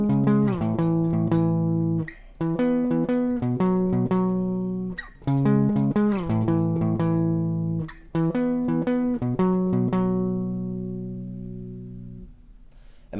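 A solo guitar plays a riff, one short plucked melodic phrase repeated four times with brief gaps between, close and clear, with no talking.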